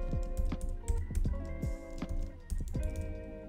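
Computer keyboard keys are pressed in quick, irregular clusters of close clicks and taps, with Shift held while arrow keys nudge elements in Figma, and no voice.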